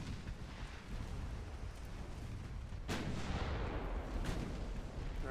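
Battleship gunfire in the Forge of Freedom naval video game: deep booming artillery salvos over a continuous roaring rumble, with two sharp loud cracks standing out.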